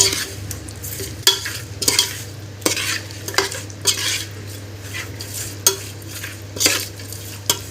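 Chicken biryani ingredients with a little coriander being mixed in a pan, a sharp metal spoon scraping and knocking in irregular strokes over a low hum and soft sizzle, close up, without speech.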